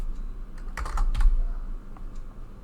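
Someone types a short burst of keystrokes on a computer keyboard while entering search box settings in a Power Apps editor, the clicks clustered in the middle and moderately close, with no talking.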